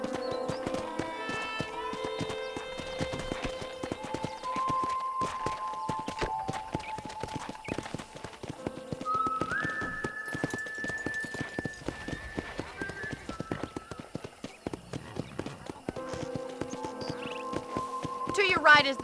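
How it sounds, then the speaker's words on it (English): Horse hooves clopping steadily throughout under music and background tones in the video game Red Dead Redemption, with faint snorts mixed in. "I picked out a fine horse for you."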